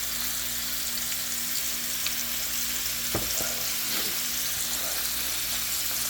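Scallops sear in a hot pan, a steady, fairly quiet sizzle and crackle with a couple of brief knocks, without talk.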